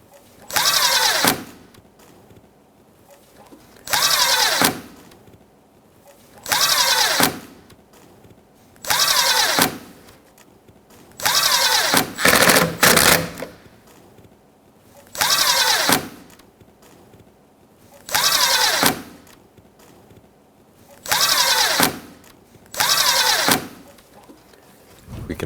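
A power tool snugs bolts along the front grille of a 2016-2022 Honda Pilot, loud repeated bursts, about nine in a regular rhythm with short pauses between.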